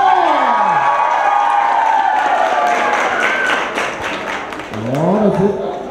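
An audience at a clown show applauds and cheers loudly, with dense clapping and excited shouts and whoops, mostly children's voices, swelling again near the end.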